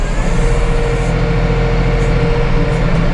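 A 2023 Massey Ferguson 4707 tractor idles with a loud, steady low engine rumble as its loader is raised, a continuous drone without voices.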